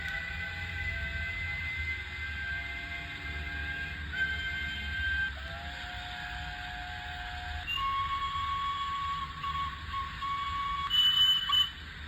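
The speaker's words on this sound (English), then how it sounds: "So there's a range of different whistles, which is quite nice." Toy Hornby steam goods express train set sounding a range of electronic steam whistles, several successive shrill, steady tones of differing pitch playing one after another over a constant low hum, with no talking.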